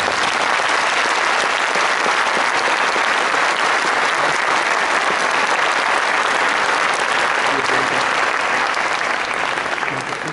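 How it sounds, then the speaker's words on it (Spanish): Loud, dense applause from a graduation ceremony audience, sustained and even throughout, a thick roar of many hands with a faint hint of voices underneath. "despidamos con un fuerte y caluroso aplauso a honorable presidente"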